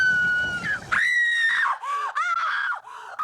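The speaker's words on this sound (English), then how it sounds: "And then she screams" Woman screaming in a scene from the 1984 film Indiana Jones and the Temple of Doom, with several loud, shrill, wavering shrieks following one another closely, each rising and falling in pitch, close and alone.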